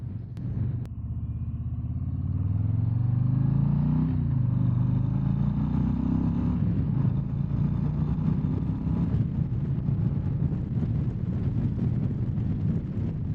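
A 2024 Harley-Davidson Low Rider ST with a big engine pulls away, its deep rumble rising in pitch as it accelerates, then settling into a steady drone heavily buffeted by wind noise.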